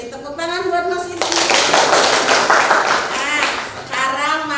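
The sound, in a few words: audience clapping for a student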